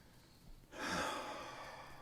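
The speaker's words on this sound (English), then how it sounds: "I choose to take a deep breath right now." One deep breath taken close up, a quiet airy rush that begins after a short pause and slowly fades, with no talking.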